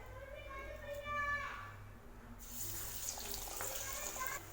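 Spinach lentil vada dropped into hot oil bursts into a loud, hissing sizzle about halfway through, after a stretch of quieter talking.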